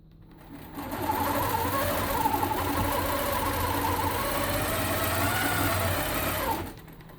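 A longarm quilting machine stitching in the ditch of a quilt, a steady close mechanical whirr of rapid needle strokes running for several seconds before stopping, with no talk.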